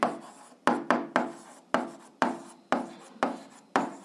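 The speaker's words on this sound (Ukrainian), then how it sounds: "Отже, записуємо рівняння" An algebra equation is written out by hand in a run of short, scratchy pen or chalk strokes, each starting sharply and trailing off, close and fairly quiet with no talking.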